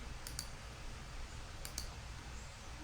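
A computer mouse clicks through rubric options in Schoology, with two quick pairs of sharp, close clicks over a faint room hush.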